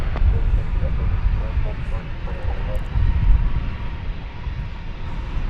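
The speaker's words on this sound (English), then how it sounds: "There goes American Flight 2379 off to San Antonio, Texas." American Airlines jet departing DFW Airport, a broad low engine roar steady throughout at moderate distance, with faint voices mixed in.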